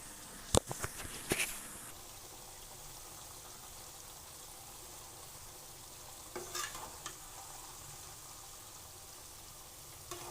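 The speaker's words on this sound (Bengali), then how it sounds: "আমি আরও ভেজে নেব, এগুলো একদম লাল করে ফেলবো।" Ingredients for homemade organic hair oil fry in oil with a faint, even sizzle and low hiss, broken by a few brief clinks of stirring near the start and again midway.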